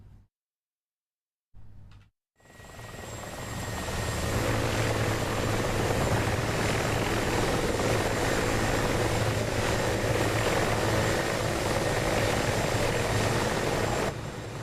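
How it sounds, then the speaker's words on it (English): A Mi-24 attack helicopter in the DCS World combat flight game flies close and loud, its steady rotor and turbine roar holding constant for about twelve seconds after a brief silent start. "MI-24's looking as though it's trying to move in on you."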